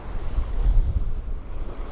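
Wind buffets the microphone over a low, rumbling wash of surf on a snowy Rhode Island beach in New England after a snowstorm, a steady, loud roar with no voices.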